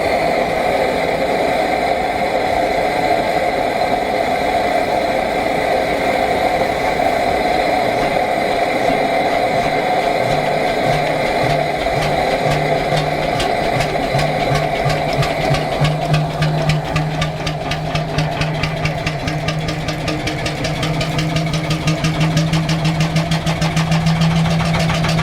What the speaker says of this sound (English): This 4-horsepower Mites & Weiss hot bulb diesel may be modest in size, but it delivers timeless charm.